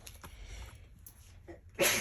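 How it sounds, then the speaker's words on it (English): A single sharp sneeze bursts out at the end, loud and close, after a quiet stretch of faint room noise and small rustles, with no talking. "I'm gonna sneeze."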